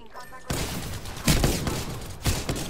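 Apex Legends gunfire erupts in a few sharp bursts of shots and impacts after a brief quiet moment, with game audio rumbling underneath.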